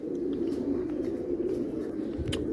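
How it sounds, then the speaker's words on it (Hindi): A pigeon coos on a rooftop, a soft, low, continuous rolling coo close by with faint background noise. "नीचे बैठे बैठे मैंने देखा अभी ऊपर एक और कबूतर आके बैठ गया।"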